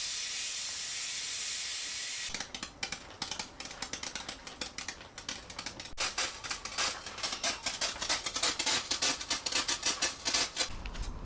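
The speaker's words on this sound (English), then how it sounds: "so we depressurized the rocket." A loud, steady hiss of escaping air as a pressurized water rocket is depressurized, followed by a rapid series of sharp sputtering bursts as the pressure vents.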